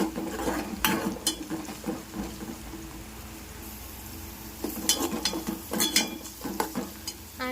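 Crushed garlic stirred into a frying pan for an amaranth-leaf fry, with a sizzling base under repeated scraping and clattering stirs that come in bursts, close and with no speech.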